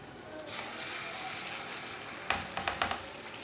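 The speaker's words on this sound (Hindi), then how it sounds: "ऑयल हमारा अच्छी तरह गर्म हो चुका है। अब पकोड़े डाल लेंगे।" Pakoras made from leftover roti crackle and sizzle steadily in hot oil at close range, with a few sharper spits and pops near the end.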